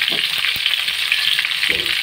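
Meat sizzles steadily in a hot pan, a loud, close crackling hiss with occasional stirring bumps.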